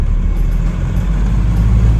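Cars and trucks stand in a road traffic jam, a steady, close, heavy rumble of idling engines with no voices.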